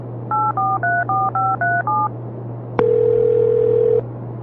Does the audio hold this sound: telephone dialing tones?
yes